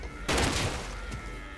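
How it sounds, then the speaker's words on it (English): Shotgun fire in the survival video game Rust: one sudden, loud, close blast with a short fading tail, then quieter game ambience afterward. "Who's that with the shotgun?"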